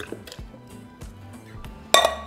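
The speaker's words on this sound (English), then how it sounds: "to a blender cup, I'm going to be adding my sliced beets" Sliced beets drop into a blender cup with light clinks and clatters, a few small knocks followed by one sharper ringing clink near the end, close up in a quiet kitchen.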